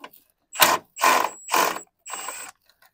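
A ratchet loosens the fuel filter bolts on a 2016 Skoda Octavia during a cambelt change, with four short bursts of rapid clicking separated by brief pauses, close and loud with no talk.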